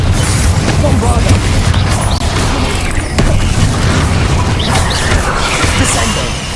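Bombarda spell explosions in Hogwarts Legacy, loud dense booms and crashing impacts filling the clip with sustained rumbling game combat noise.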